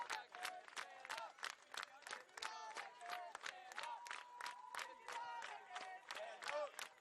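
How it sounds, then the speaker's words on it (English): A whiteout crowd at a women's college soccer match, Tampa against Eckerd, cheers and claps from a distance in a faint, steady roar with scattered sharp claps throughout. "The whiteout crowd behind us starting to get into it."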